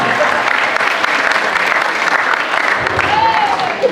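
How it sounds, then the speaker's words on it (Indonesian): Steady applause from an audience at an Isra Miraj talk show, honouring the speakers; dense, even clapping fills the whole stretch at close range, with faint voices mixed in. "Sekali lagi beri tepuk tangan yang mulia untuk para narasumber kita."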